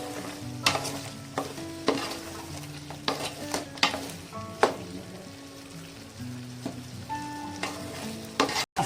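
Chicken curry stirred in a pot, a spoon scraping and clacking against the metal in irregular strokes over a soft simmering bubble, close and moderately loud, with no talking.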